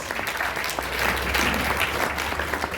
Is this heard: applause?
yes